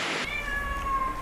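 A cat meows once, a single drawn-out tonal call heard close by and clear, with quiet background in a rural Indian village home on a rainy day.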